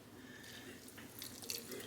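Roughly a quarter cup of water trickles into a lentil bun mixture thickened with psyllium husk. A brief, faint pour and drip sounds close by in a quiet kitchen.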